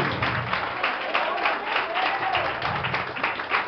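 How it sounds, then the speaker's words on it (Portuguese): A church congregation applauds in a steady wash of clapping. Voices are mixed in under it throughout. "Dá mais uma salva de palmas para Jesus."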